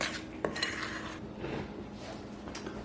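Flour is worked into a sugar, egg and butter batter for a jelly cake, with soft, close scrapes and light clinks of a utensil against the mixing bowl and a faint background hum.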